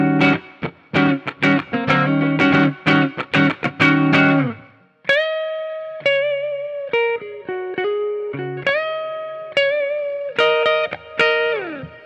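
A 2020 Gibson Hendrix 1969 Flying V electric guitar played clean on the neck pickup: rhythmic strummed chords, then sustained bluesy single-note lead lines, loud and clear with no talking.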